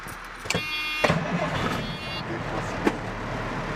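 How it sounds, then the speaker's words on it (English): A Class A truck's engine cranks and catches inside the cab during an air brake and in-cab inspection, with a few sharp clicks and thumps before a steady idle settles in, heard up close. "I'm going to start up my engine to activate the needles."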